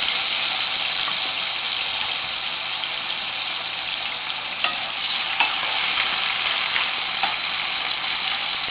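Onion hits hot oil with cumin seeds and fries in a steady, bright sizzle, with a few sharper spits and crackles, close and continuous with no voices.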